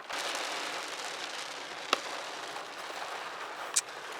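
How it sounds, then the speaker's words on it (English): Rain falls outside as a steady, dense hiss that fills the whole span, with a couple of sharper drop impacts standing out near the middle and end. No voices are heard. "as you can clearly see, it is still raining"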